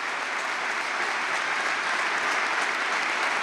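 A whole crowd applauds steadily in the Alcàsser trinquet, the enclosed court of Valencian pilota, after a women's raspall final ends; dense, sustained clapping fills the space with no voices on top.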